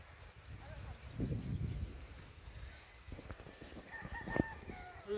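A rooster crows faintly in the background at a café, a single drawn-out call rising near the end, while people talk and move around close by.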